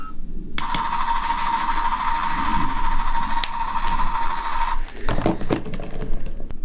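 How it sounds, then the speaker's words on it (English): Helicopter sound effect from a toy battleship, a loud, steady buzzing whir held for several seconds before cutting off, followed by faint clicks and handling noise, with no talking. "And that's the helicopter sound."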